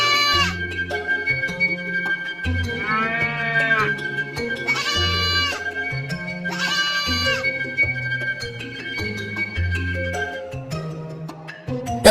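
Goats and sheep bleat in several loud, wavering calls over a background of steady music, with no chicken sounds standing out.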